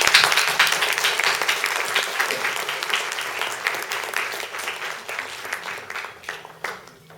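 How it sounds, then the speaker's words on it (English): An audience at a Jorasanko book launch hosted by the Institute of South Asian Studies and the Tagore Society applauds Professor Chaudhary: dense, sustained clapping from many hands that gradually thins and fades over several seconds. "a loud applause for Professor Chaudhary"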